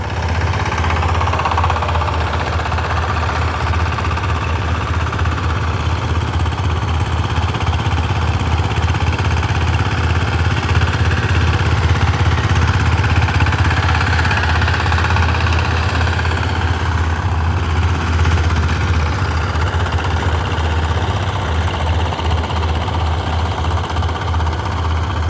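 A power tiller engine runs steadily in a flooded paddy field, its low, continuous throbbing drone holding at an even loudness throughout with no talk over it.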